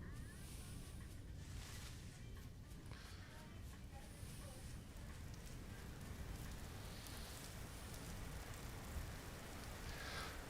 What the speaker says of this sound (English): The rain fucked me up.